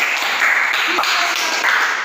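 A classroom applauding a student group after their presentation, a dense, even wash of clapping that holds steady throughout, with faint voices mixed into it.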